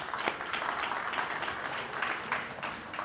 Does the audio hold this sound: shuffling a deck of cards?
no